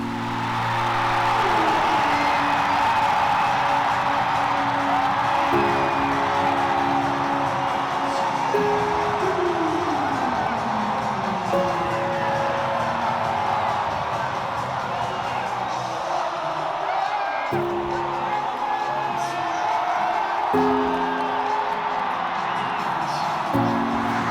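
A stadium crowd at a Daegu FC pro football match applauds and cheers as Lee Keun-ho is substituted off, a broad, steady roar of clapping and shouts with scattered whoops. A person speaks over it.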